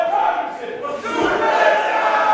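Wrestling arena crowd cheering for a suplex during a championship match, a loud, sustained roar of many voices that swells after a brief dip and stays strong to the end.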